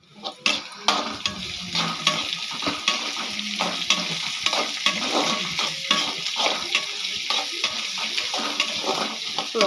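Onions sautéing in a pan for chicken gravy, a continuous close sizzle with frequent stirring scrapes and clinks of a spoon against the metal pan.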